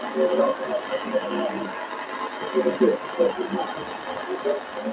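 Weak radio reception crackles with a constant hiss and hum, carrying faint, muffled voices buried in the static.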